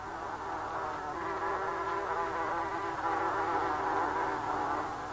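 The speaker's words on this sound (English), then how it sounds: "Bumblebee nests aren't just inhabited by bumblebees." A dense, steady buzz of bumblebees in their nest hums continuously, close and even in loudness, many bees droning together, with no voices.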